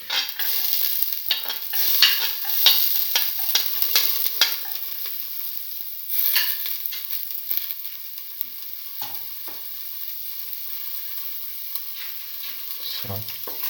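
Garlic sizzles in a hot pan while a spoon stirs and scrapes in bursts, the frying hiss busy at first and then settling to a steady quieter crackle with occasional clinks.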